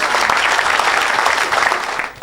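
A congregation at a church healing service bursts into loud, dense applause for the Lord, sustained clapping from many hands that fades slightly at the end.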